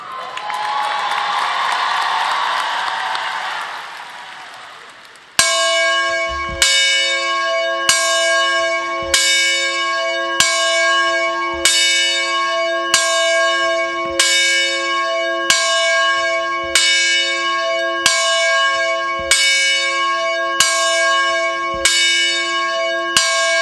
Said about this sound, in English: Kira, ring that bell.